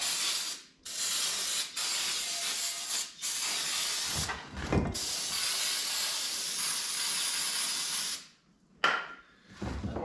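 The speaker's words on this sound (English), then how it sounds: "we use a combination of brake cleaner and carburetor cleaner" Aerosol brake cleaner and carburetor cleaner spray out of cans in long, loud hissing bursts near the microphone, broken by short pauses, while working on a 1955 Chevy engine.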